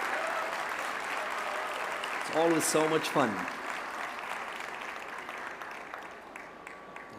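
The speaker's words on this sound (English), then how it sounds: "Let's give them a big round of applause while they step the stage." Applause fills an awards stage at a live entrepreneurship world cup final as winners step up, a steady broadband crowd clapping throughout, with a short spoken remark breaking through midway.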